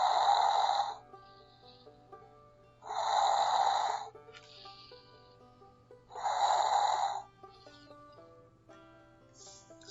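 A voice imitates snoring while reading a bedtime story, three slow, drawn-out breathy snores spaced evenly a few seconds apart, close and soft, with quiet pauses between.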